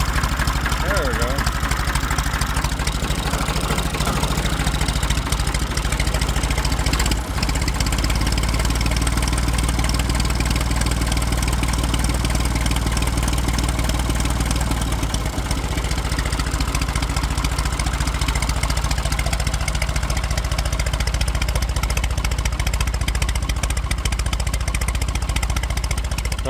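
A diesel tractor engine idles steadily after being jump-started, a continuous loud low rumble with a mechanical clatter that holds unchanged throughout, while someone talks over it.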